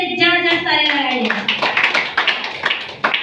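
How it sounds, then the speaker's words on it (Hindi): Audience clapping at a DXN Spirulina agents' meeting in India, beginning right after a voice at the start and then continuing as a steady run of overlapping claps. "उन लोगों के लिए जबरदस्त ताली लगाइए।"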